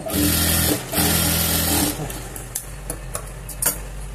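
A sewing machine stitching a blouse piece runs in two steady loud bursts, then stops, followed by softer fabric handling and a few light clicks.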